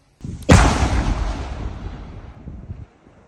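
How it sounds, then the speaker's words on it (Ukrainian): A single deep, powerful blast from a controlled detonation of a drone at a demolition site goes off, its rumbling roar rolling out and slowly fading over a couple of seconds, heard from a distance outdoors. "Вогонь. Вибух."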